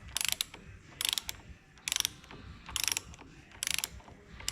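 A torque wrench on a David Brown 880 tractor's Dowty hydraulic pump bolts, ratcheting in five quick bursts of rapid clicks, evenly spaced with brief pauses between, close and clear with a faint background hum.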